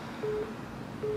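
Telephone ringing with an incoming call, two short electronic tone bursts separated by a pause, steady and fairly faint against a background hum.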